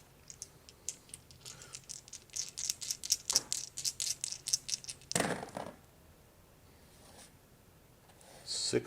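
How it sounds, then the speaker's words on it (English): Pen scratching out a number on paper during a tarot reading, a run of quick short strokes up close, then a louder rustle and a pause before more scratching. "I gotta write this down."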